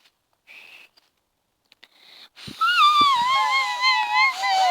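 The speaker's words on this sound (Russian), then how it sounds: "Давай нормально посвистим" People whistling at home: a few faint tentative notes and short sounds at first, then a loud, wavering whistled tune with sliding pitch that carries to the end.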